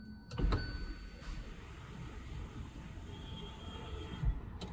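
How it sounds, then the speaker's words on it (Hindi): Electric sunroof motor on a Kia Sonet GTX+ turbo diesel, a quiet steady whirring hum that runs for several seconds inside the car, set off by a couple of soft clicks. "तो ये आप इस गाड़ी का सनरूफ जो है वो आप देख सकते हैं, काफ़ी बड़ा खुलता है।"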